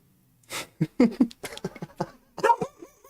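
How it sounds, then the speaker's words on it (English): A dog indoors giving a close, loud string of short whimpers, yips and huffs in quick irregular bursts during a live podcast. "let me get the dog out of here, Tim"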